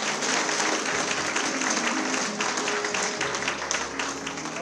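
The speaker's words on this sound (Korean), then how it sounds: "여러분 힘찬 축하에 박수 부탁드리겠습니다" An audience at a Daegu Dong-gu district award ceremony honouring charitable donors gives a dense, sustained round of applause for the whole stretch, loud and continuous with no speech over it.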